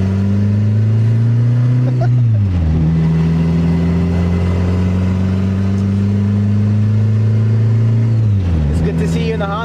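A Honda Civic wagon engine drones steadily while driving, dropping in pitch twice as it shifts or slows before settling again. Voices talk over it in the cabin.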